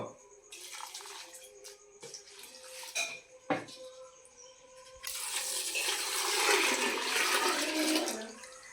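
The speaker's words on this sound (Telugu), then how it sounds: "ఈ గ్లాస్తో ఆరు గ్లాసులు వాటర్ వేసుకుంటున్నానండి ఇందులో" Water pours steadily into a cooking pot of rice and toor dal for bisi bele bath with a rushing splash, preceded by a few metallic clinks of utensils against cookware.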